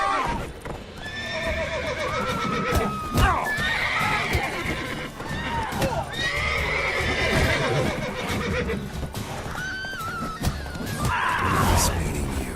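A horse in The Witcher 3 whinnies several times amid clip-clopping hooves and clattering game sounds, with voices speaking over parts of it.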